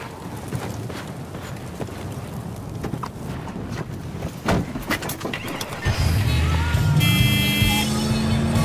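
A car in the video game Battlefield 4 rumbling and rolling over rough ground amid scattered knocks and clatter, with an engine drone that rises louder and steadier near the end while voices speak faintly.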